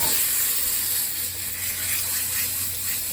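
Steak searing in butter in a hot pan gives a steady, close sizzling hiss that holds level throughout with no talking over it.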